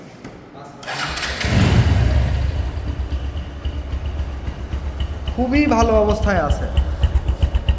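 A Bajaj Discover 135 motorcycle engine cranks and catches, then settles into a steady, close, throbbing idle, with someone speaking briefly over it.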